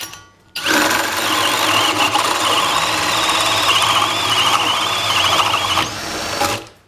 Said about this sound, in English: And I'm actually going to drill this right into that knot right there.